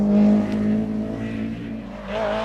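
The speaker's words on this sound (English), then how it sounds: "Bertie Fisher in the Toughmac BMW has nothing to lose" A Toughmac BMW rally car races flat out, its engine holding a loud, steady high-revving drone close by with a slight pitch rise near the end, and no talk over it.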